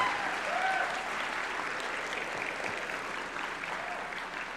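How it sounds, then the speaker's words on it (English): An audience at a dinner event applauds with continuous, dense clapping from a room of guests, steady and moderately loud throughout. "You can clap for that."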